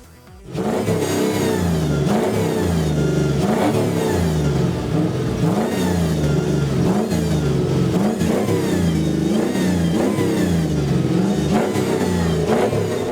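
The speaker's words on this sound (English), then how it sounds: "Can we hear it? Can we start it up?" A Mustang's LS3 crate engine fires up and revs hard again and again, a deep, loud, rumbling roar rising and falling in repeated bursts.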